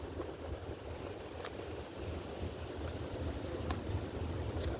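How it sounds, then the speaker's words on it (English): Wind blows steadily outdoors, a continuous rumbling roar that buffets the microphone, with a few faint higher clicks and no talking. "This wind is blowing."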